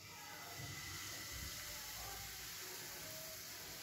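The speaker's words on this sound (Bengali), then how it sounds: "এখানে আমি রিফাইন তেল দিয়ে দিয়েছি আর এটা গরম হয়ে গেছে। এবার এর মধ্যে আমি ব্যাটারটা দিয়ে দিচ্ছি।" Batter made with one egg and a cup of flour sizzles as it is poured into hot refined oil in a pan, a steady close hissing crackle that fills the whole stretch.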